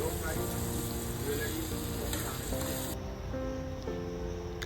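Spice masala with Kashmiri red chilli, cooking for a kadai paneer gravy, sizzles in oil as a little water is added. A continuous, fairly loud frying hiss shifts in texture partway through.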